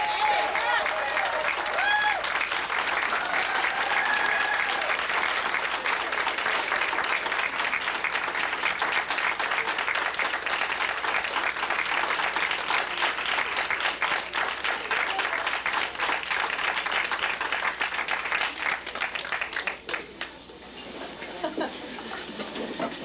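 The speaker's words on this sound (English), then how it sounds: "Please welcome, with a warm round of applause, our own sister poet, Sonia Sanchez" A large audience claps steadily for the poet Sonia Sanchez at Medgar Evers College, a dense, loud, sustained round of applause that tapers off near the end.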